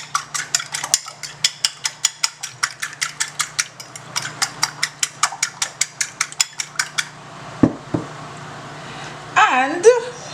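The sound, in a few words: beating two eggs in a bowl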